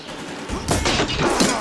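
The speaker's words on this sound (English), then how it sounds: "Keep that firing going!" Gunfire in the video game Horizon Forbidden West, a quiet lead-in broken by a dense volley of loud cracking shots and thuds that continues to the end.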